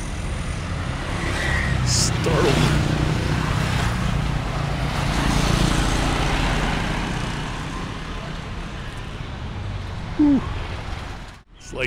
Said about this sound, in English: so there's a lot of traffic.